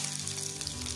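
Mustard seeds sizzle in hot oil at the start of a radish curry, a brief, steady, close crackling hiss with no voices.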